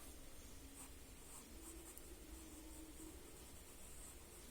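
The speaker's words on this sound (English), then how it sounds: "adding the pencil dots, pencil marks" A graphite pencil scratches faintly and steadily across paper while adding shading dots and marks to a Zentangle tile, under soft background hiss.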